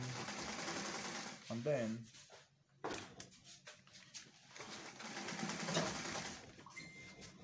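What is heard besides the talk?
sewing machine stitching a rope trouser seam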